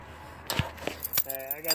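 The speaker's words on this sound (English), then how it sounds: "Hey, I got the keys." Car keys for a Dodge Neon jangle and clink briefly in a few quick metallic bursts, close and fairly quiet, with a short bit of speech mixed in.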